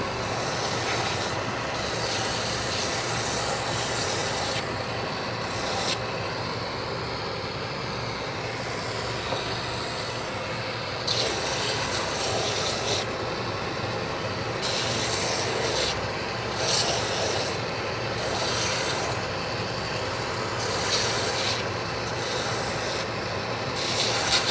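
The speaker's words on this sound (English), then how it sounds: "So when it comes to grinding the stitches, we'll hit it on the sandpaper here." Stitches are ground down against sandpaper in a continuous, fairly loud rasping rub that swells in short, stronger bursts as strokes are pressed harder.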